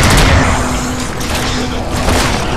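Rapid SMG fire in the video game NecroVision, a dense loud burst of booming shots over about two seconds with a slight dip in the middle.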